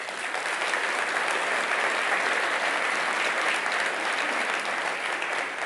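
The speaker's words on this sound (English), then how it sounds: "So I'm going to ask you all to give them a big round of applause." A business audience gathered for a UK prime minister's speech claps steadily in dense, sustained applause. The sound is loud and even from start to finish, with no voice standing out.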